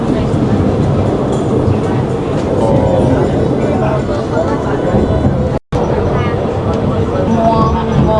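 A train carries riders toward Fansipan summit near Sapa, Vietnam, a loud, steady rumble and clatter heard from inside the car, with voices talking over it and a short dropout partway through.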